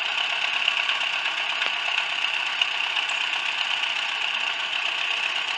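A Massey Harris 50 tractor engine idles in a steady, even drone with a strong mechanical whine. It stays constant and close throughout, with no voices over it.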